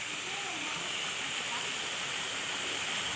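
Clear, fresh spring water rushing and flowing at Biyong Spring, a steady bright hiss of moving water, fairly faint and continuous throughout.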